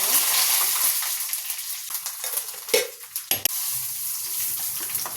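Mustard seeds, cumin, curry leaves and garlic are tempered in hot oil for a ridge gourd chutney, giving a steady broad sizzle with spitting crackles and a few louder pops and clinks partway through.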